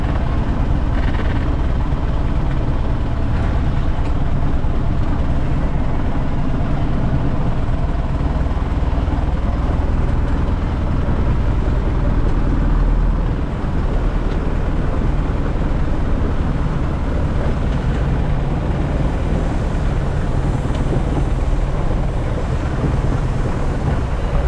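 A long-tail boat motors through the Damnoen Saduak floating market in Thailand, its engine a loud, steady, rumbling drone mixed with wind buffeting the microphone, continuous throughout with no speech.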